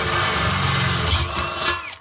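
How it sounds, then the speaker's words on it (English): Power drill boring a hole through a beer keg lying on its side, a continuous loud whirring grind with a shift in pitch near the end as the bit cuts, then stopping abruptly. "I'll put the keg on the side, because I find it easier for drilling."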